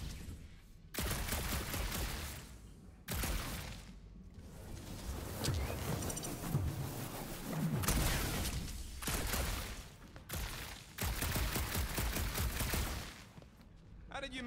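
Rapid bursts of gunfire from a fast-firing weapon in Marvel's Guardians of the Galaxy, fired in long sustained volleys separated by brief pauses, loud and close, mixed with game combat effects.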